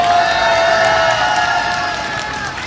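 Loud crowd noise at a street rally of resident doctors, a sustained roar of cheering with steady tonal voices or horns over it, fading a little toward the end.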